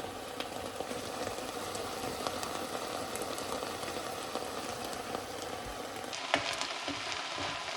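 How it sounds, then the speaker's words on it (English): Peppers, onions and garlic soften in a pan over gentle heat, giving a steady, low, even sizzle throughout with faint clinks and no talk. "peppers, onions, and garlic are sweating up nice. Starting to get nice and soft."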